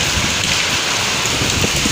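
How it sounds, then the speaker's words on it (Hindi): Heavy rain pours steadily outdoors during a storm with strong wind, a dense, constant hiss of downpour with low rumbling gusts underneath and no speech. "बाहर इतनी तेज़ तूफान आ रहा ना"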